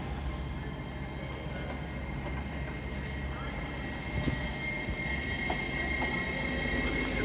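Train at York station on the East Coast Main Line, likely the 10:35 LNER service from London King's Cross to Edinburgh Waverley, rumbling steadily through a busy platform with a broad low roar, occasional faint squeals and brief knocks, and people talking quietly nearby.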